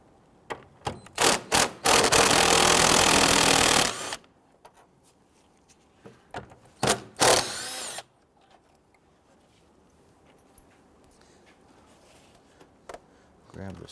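A power tool spins a 10mm bolt loose on a 2011-2017 Nissan Quest 3.5L V6 engine, two loud whirring bursts of a few seconds each at close range, with ratchet clicks and handling noises between.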